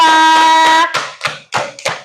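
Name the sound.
applause for group 2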